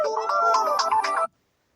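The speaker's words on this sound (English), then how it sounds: "Oh, phone call!" A phone ringtone plays a bright melodic electronic tune for just over a second, loud and close, then cuts off abruptly into silence.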